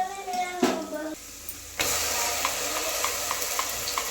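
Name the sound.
ground masala frying with onions in a pan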